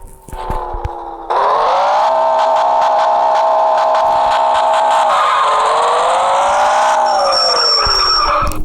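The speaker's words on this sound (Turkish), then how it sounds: "Klasik araç sesi." A classic car engine in the Driving Zone game drones loudly and steadily, its pitch rising and dipping as it accelerates, with tire-squeal-like noise layered over it.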